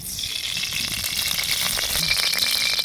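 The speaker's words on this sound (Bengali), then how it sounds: "কড়াই চুলে দিয়েছি, তেল দিচ্ছি।" Oil heating in a hot wok on a stovetop gives a steady, moderate hiss and sizzle throughout, with faint clinks and no voices.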